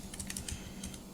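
Rapid typing on a computer keyboard, a steady run of close, light key clicks with no talk.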